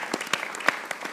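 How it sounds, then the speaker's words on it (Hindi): A studio audience on a Hindi cricket talk show about the T20 World Cup Final claps briefly, a short burst of separate, close handclaps with a few sharper peaks. "फखर जमान के लिए भी तालियां बजाना चाहता हूं,"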